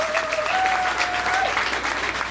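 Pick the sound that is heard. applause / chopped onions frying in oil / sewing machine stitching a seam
applause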